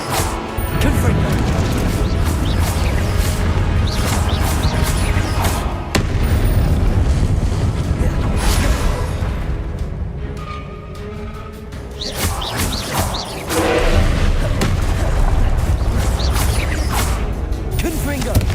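Confringo spell explosions in the video game Hogwarts Legacy: a dense, loud barrage of booming blasts and crashing impacts that rumbles almost nonstop, easing briefly midway before surging again.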